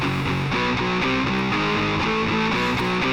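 Electric guitar run through the Airwindows GrindAmp old-school amp-simulator plugin, a gritty distorted chord pattern strummed in a steady rhythm, dense and loud throughout with nothing else heard.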